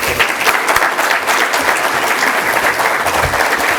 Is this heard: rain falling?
no